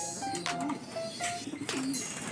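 Racing pigeons coo softly in a loft during a training race, giving several short low calls under a faint ambient hiss.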